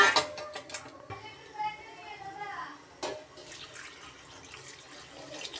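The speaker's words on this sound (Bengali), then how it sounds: "দিয়ে দিলাম জল, আর একটু জল দিব।" Water pours into a cooking pot of simmering meat curry, a splashing trickle lasting a couple of seconds, with kitchen clatter and someone talking around it.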